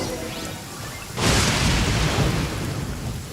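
Thunder crashes during a lightning storm in the video game Genshin Impact: a sudden loud boom breaks over quieter ambient sound and rolls on as a steady roar for a couple of seconds, with no voices.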